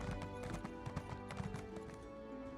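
A horse's hooves clip-clop in a steady, fairly quick rhythm as it is ridden in the video game Elder Scrolls Online, with faint ambient game sounds behind it.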